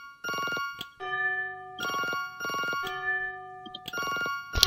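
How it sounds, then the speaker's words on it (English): Telephone ringing in the horror video game The Mirror Lied, a bright electronic ring repeating in steady bursts with brief gaps, clear and prominent with no voices. "the phone ringing triggered immediately again, I guess, after I answered the phone there, so it kept ringing"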